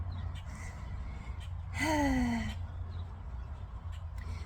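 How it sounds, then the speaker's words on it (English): A single harsh bird call, like a crow's caw, rings out over steady low background hum, with faint chirps scattered around it. "I hope the birds aren't too loud."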